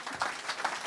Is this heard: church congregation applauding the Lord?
yes